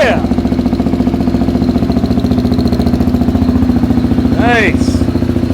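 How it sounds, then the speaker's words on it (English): 2024 KTM 690 SMC R single-cylinder motorcycle fitted with a Dynojet Power Commander 6 and Rottweiler intake, idling with a loud, close, rapid thumping pulse; a short squeaky sound rises briefly near the end. "Now let's see if this bike will actually start."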